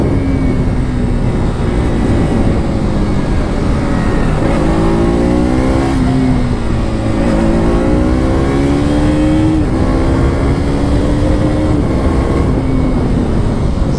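A KTM RC200 motorcycle engine while riding on the road: a loud, continuous drone that rises and falls in pitch through repeated revs and gear changes, steady and close throughout.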